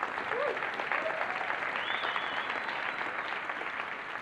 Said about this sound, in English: how about another round of applause for Don Was, please?